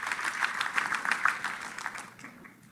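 At an Expopy business panel on innovation, an audience gives a short round of applause for a panelist, a brief burst of clapping that thins out within three seconds.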